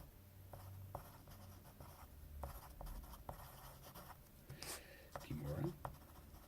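A pen scratches across paper as jiu jitsu notes are written by hand, soft and close, with intermittent short strokes and pauses under quiet talking.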